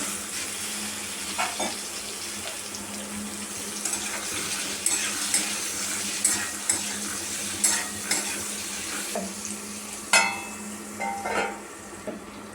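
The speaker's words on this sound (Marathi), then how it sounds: "याच्यामध्ये बटाटे टाकून घ्यायचे आहेत, आपल्याला परतून घ्यायचा बटाटा।" Potatoes sautéing in a pan under a steady sizzle, with a utensil clinking and scraping every second or so, close and without talk.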